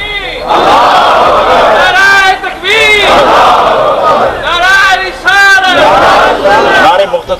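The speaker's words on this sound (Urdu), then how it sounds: "نعرے مختصر کریں بھائی" A large crowd at a Sufi religious gathering chants slogans in loud, rhythmic unison, the call-and-response surging in repeated waves close by and filling the space.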